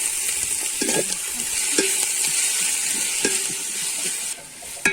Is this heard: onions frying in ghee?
yes